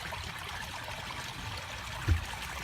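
A pond pump pushing 4,000 gallons per hour through a koi pond waterfall that doubles as the filter; steady, soft trickling and running water throughout, with a brief low splash near the end.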